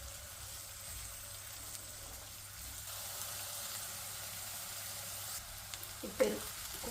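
Onions frying in butter in a pan, a faint steady sizzle throughout with a brief louder stir or clatter near the end.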